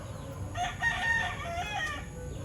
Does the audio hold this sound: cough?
no